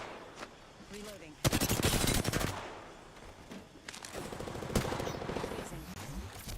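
Rapid automatic gunfire in Apex Legends, loud bursts of fast-repeating shots arriving in several strings over the span, mixed with game voice callouts and other noise.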